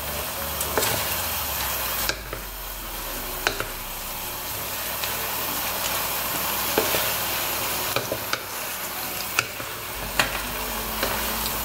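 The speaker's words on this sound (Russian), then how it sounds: "И перемешиваем все время. Хорошо перемешивать все вместе." Shrimp stirred through a creamy sauce in a pan, a steady soft sizzle with occasional sharp spoon scrapes and taps against the pan, continuous and close.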